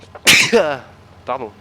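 A single loud, sharp sneeze bursts out up close, then a person speaks a short word, during a Farming Simulator 19 farm gameplay session.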